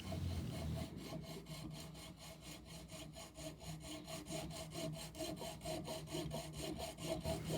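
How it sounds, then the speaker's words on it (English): A hand saw cuts angled treads into a wooden blank for a rover-tracks tool, giving a steady run of rhythmic back-and-forth strokes, close and moderately loud, with no voices. "The blank stands a bit proud of the top so I can saw in the treads"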